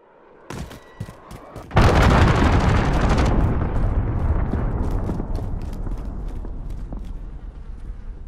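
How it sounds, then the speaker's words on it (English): A cruise missile strike in Call of Duty Modern Warfare: a few sharp gunshots, then a massive booming explosion that rumbles loudly and slowly fades, with scattered shots crackling afterward. "Enemy cruise missile incoming!"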